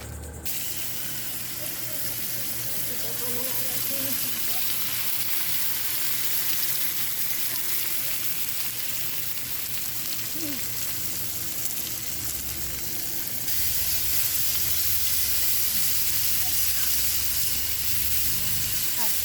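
Pork frying on a camp griddle with sesame oil, giving a steady, loud broadband sizzle and hiss throughout, growing slightly stronger near the end, with faint background voices.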